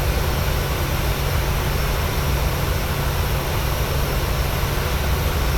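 Boeing Dreamlifter jet engines in a flight simulator: a loud, steady broadband roar with a strong low rumble and high hiss, unchanging throughout and with no talk.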